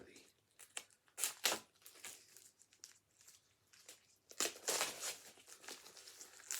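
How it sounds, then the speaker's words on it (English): Cellophane wrapper being peeled carefully off a book: close, crisp crinkling and tearing in several separate bursts, with quiet pauses between them. "let's just take it out of its cellophane very carefully"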